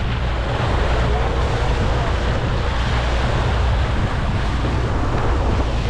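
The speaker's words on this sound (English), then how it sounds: "I love how it's windy here." Strong wind buffets the microphone beside waves on Lake Victoria, a dense, continuous roar of surf and gusts, loud and unbroken with no voices.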